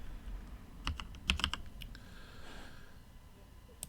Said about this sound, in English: Start typing that out